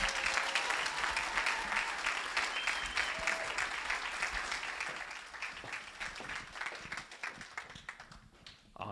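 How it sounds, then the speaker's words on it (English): A crowd applauds as a panel of top producers is welcomed to the stage, with steady, close clapping that gradually thins and fades over about nine seconds. "Give them a round of applause, everybody."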